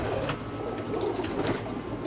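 Pigeons in a backyard loft coo in soft, repeated rolling calls with a close, low murmur and faint rustling behind them, and no one talks.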